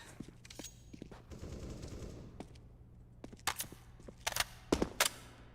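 Gunfire from an AK rifle in the video game CS:GO during a competitive match, with scattered single shots and short bursts cracking out sharply over a steady low background hum, several loud reports clustering near the end.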